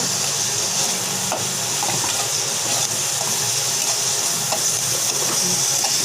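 Garlic and onion paste sautés in a pan for a water lily and coconut paste dish, giving a loud, continuous hiss of frying with faint stirring scrapes.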